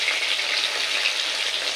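Katla fish head pieces fry in hot oil, giving a steady, close, even sizzle with no pauses and no voices.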